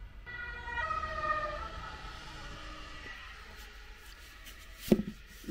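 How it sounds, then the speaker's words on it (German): An ambulance siren wails on the street outside, heard faintly through a room and fading as it passes, followed by a brief nearby knock. "Hier fahren immer Krankenwagen und alles vorbei."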